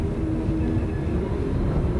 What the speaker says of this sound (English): Private jet touching down here in Grand Teton National Park.